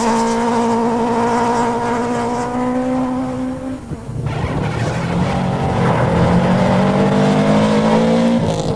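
A Subaru rally car launches hard from the start line of a gravel forest stage, its engine roaring loud and close with rising revs and a clear gear change midway before pulling on at full throttle.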